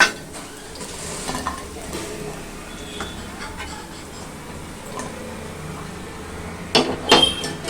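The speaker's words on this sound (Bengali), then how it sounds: "এবার আমি এটা প্লেটের ওপরে তুলছি। দেখুন শব্দটা শুনেই বুঝতে পারছেন যে কতটা মুচমুচে হয়েছে।" Crispy fried pakoras made from mixed lentils and vegetables, without besan, are lifted onto a plate. Soft scraping and crackly clinks run throughout, ending in a louder burst of utensil clatter.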